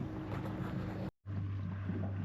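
A Mako Pro Skiff 15 boat's engine drones close by at Echo Bay, Lake Mead, with a low steady hum and wind buffeting the microphone, interrupted by a brief dropout before resuming.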